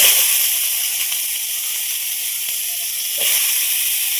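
Mango pieces hit hot oil and mustard seeds in a wok, raising a loud, steady hiss and sizzle that runs the whole time, with a fresh surge of crackling near the end.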